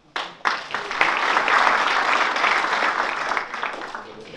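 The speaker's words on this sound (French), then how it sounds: "Vous pouvez applaudir Franck?" Seminar audience applauds a speaker named Franck at a lawyer's event in Nice, a few early claps quickly swelling into steady applause that holds for several seconds before thinning out.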